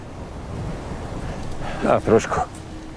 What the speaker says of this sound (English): It's windy here, but we've made it.